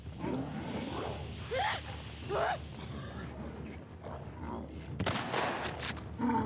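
Quiet, scattered gunshots crack in The Last of Us Part 2, brief sharp reports spaced apart over a low background, with a voice speaking at times.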